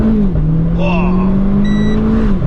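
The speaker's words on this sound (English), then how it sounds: "It gets to that rev limiter quick." The engine of a Renaultsport Clio 220 Trophy revs loud and close, holding high against the rev limiter as the car drives on, with someone talking over it.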